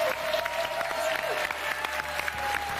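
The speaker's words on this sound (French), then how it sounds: "Ça s'est hyper bien passé pour Garnier et Santou qu'on peut applaudir." An audience applauds with steady, dense clapping, while a voice briefly speaks over the noise.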